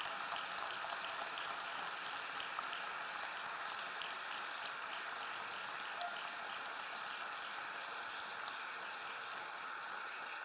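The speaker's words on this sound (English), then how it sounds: "Let's give our newly commissioned Stephen ministers a round of applause." Steady, fairly quiet applause from a church congregation during Sunday Mass, even clapping heard at a distance for about ten seconds without a break.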